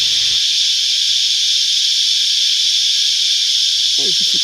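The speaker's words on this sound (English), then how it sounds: "this cicada's just a little loud." Steady, dense buzz of cicadas in the Australian bush fills the air continuously and loudly, with a brief low rustle at the start and end.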